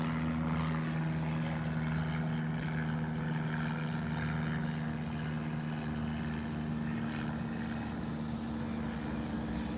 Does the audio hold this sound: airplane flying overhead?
yes